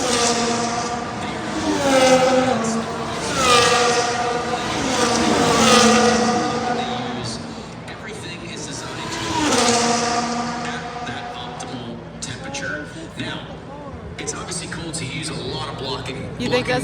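Formula 1 race cars at the Las Vegas Grand Prix, engines whining through rising and falling gear changes, loud and close, with commentators talking over the roar throughout.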